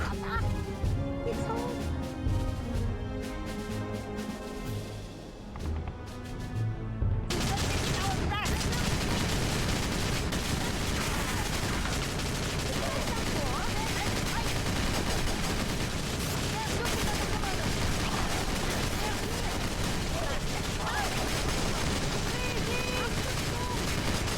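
Rifle squad gunfire in the Battalion Wars video game, with dense rapid bursts of shots and crashes layered over game music and effects, continuing loudly and steadily after a quieter opening.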